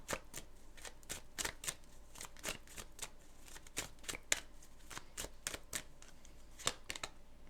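Tarot cards are shuffled by hand in a steady run of close, crisp riffling bursts, each a sharp papery flutter, repeating at an uneven rhythm with quiet gaps between.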